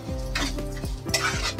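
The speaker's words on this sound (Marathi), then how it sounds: "तो भाजून घेते मी चांगला तुपामध्ये।" A spoon stirs semolina roasting in ghee in a metal pan, giving several scraping, clinking strokes over a low sizzle, close up.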